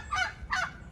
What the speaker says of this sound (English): Our neighbor has a red bourbon turkey.